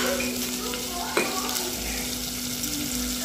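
Vegetable curry sizzles in a pan, a steady frying hiss with a brief clatter partway through and faint background noise.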